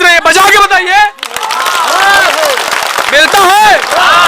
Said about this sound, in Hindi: तालियों की गड़गड़ाहट से ये बता रहे हैं कि यहाँ चमत्कार होता है